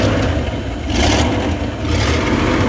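A Ford E150 van engine runs loud and close with the engine cover removed and a suspected exhaust leak, its rough rumble swelling in a couple of brief revs over a steady clattering drone.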